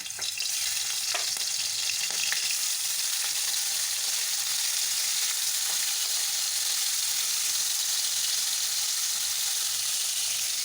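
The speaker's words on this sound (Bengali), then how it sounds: "আগে মাছগুলো ভেজে নেব তেল হয়ে গেছে মাছগুলো দিয়ে দেবো" Prawns fry in hot oil in a pan with onions, a loud steady sizzle that carries on unbroken and close by with no talking.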